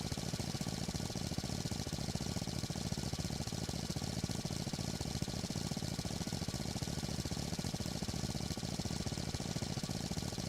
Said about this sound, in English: I'm going to go ahead and start our engine.